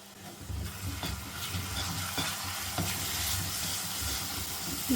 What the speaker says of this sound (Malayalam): രണ്ട് ടേബിൾ സ്പൂൺ ടൊമാറ്റോ സോസ് ഒഴിച്ചു കൊടുക്കുവാണ്